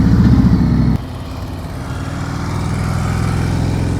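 A motorcycle engine runs at low RPM during slow-speed riding practice, giving a loud, close, steady low rumble that dips briefly and then continues evenly throughout.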